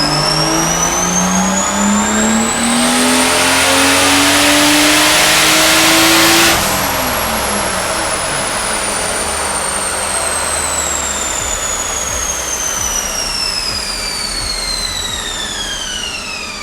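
A 2JZ-engined Toyota Supra screams on a dyno, revving up hard in a long, loud rising pull to its peak, then the pitch sweeps back down as the engine winds off, steady and close throughout.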